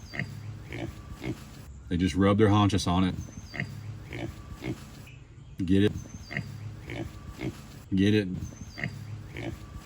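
Pigs grunt close by around a water barrel on a farm, in short bursts of deep snorting between stretches of quieter shuffling, with a person speaking over them.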